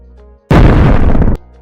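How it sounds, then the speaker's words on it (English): Violent explosion effect with debris: a sudden heavy boom erupts and rumbles densely for nearly a second before ending sharply, framed by a quiet low hum. "Nuclear, massive explosion, explosion FX, explosion with debris."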